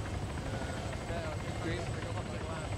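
A helicopter in the Arma 3 military game keeps a steady, faint rotor drone going throughout, a continuous low thrum under voices talking over radio.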